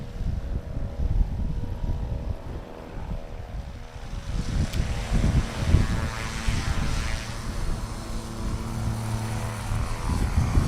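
A Badlands Traveler STOL plane takes off at a STOL competition in Hartford, Wisconsin, its propeller engine droning steadily and rising in pitch, moderately distant and continuous throughout.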